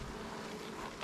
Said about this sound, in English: I got a lot of bees mad on this other hive because I put their entrance reducer on